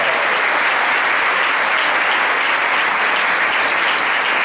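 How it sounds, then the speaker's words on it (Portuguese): Steady, dense applause fills a Mass of healing and deliverance as the congregation claps continuously, with a little cheering mixed into the even roar. "Pode aplaudir esse Deus que está no seu nome"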